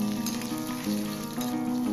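Green chillies sauté in a hot pan for a Gowderu-style chicken gravy, giving a steady, close sizzle throughout with a faint tonal hum underneath.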